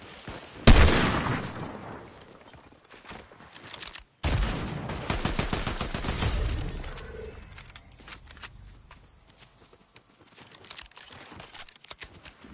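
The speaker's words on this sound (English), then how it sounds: "Now who else is shooting at me?" Gunfire aimed at the player in Fortnite, a loud rattling burst followed by a second longer volley of rapid shots that fades into quieter scattered noise.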